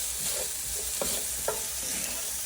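Chickpea curry spices sizzle in oil in a pan while a utensil stirs, giving a soft continuous fry broken by a few distinct scraping strokes, close up and without speech.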